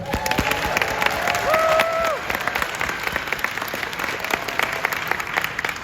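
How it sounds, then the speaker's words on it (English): An audience applauds at a school holiday concert, a steady wash of many hands clapping. A few brief whistles or cheers rise above it near the start, then the clapping continues evenly and fairly softly to the end. "that was a decent applause"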